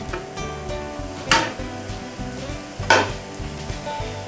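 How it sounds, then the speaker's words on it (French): Mushrooms dropped into hot oil in a frying pan set off a steady sizzle, with two sharper bursts of frying as more pieces land and utensils stir and clink in the pan. "mon huile est chaude, je mets mes champignons dedans."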